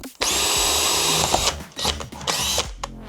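Cordless power drill boring a hole with a 3.3 mm bit through a hinge. A loud, steady motor whine runs for over a second, then comes back in two shorter bursts as the bit cuts.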